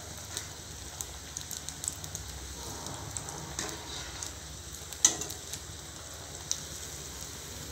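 Paneer bread rolls fry in oil with a gentle, continuous sizzle broken by scattered crackles and one sharper pop, close and quiet with no speech.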